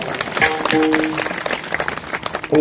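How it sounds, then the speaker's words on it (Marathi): An audience claps at a devotional harikirtan during a week-long village religious gathering, a dense burst of applause with some tonal sounds and murmuring mixed in, steady and fairly loud throughout. "यांच्या सर्वांकरता जोरदार टाळी वाजवा."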